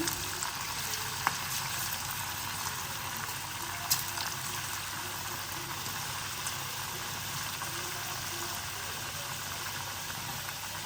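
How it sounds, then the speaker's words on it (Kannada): Sliced potatoes fry in hot oil for homemade crispy chips, giving a steady, even hiss of bubbling oil throughout, with a couple of faint clicks and no voices. "ಇವಾಗ ಎಣ್ಣೆ ಕಾಯ್ದಿದೆ. ಇದು ಕಟ್ ಮಾಡ್ಕೊಂಡಿರೋ ಆಲೂಗೆಡ್ಡೆನ ಎಣ್ಣೆಯಲ್ಲಿ ಬಿಡೋಣ."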